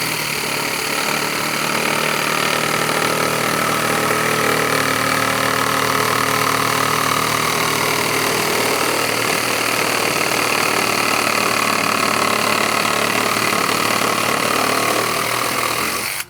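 A power saw cuts with an older pruning blade rather than a new one, a loud continuous whining drone heard close up and steady for the whole stretch with no talking.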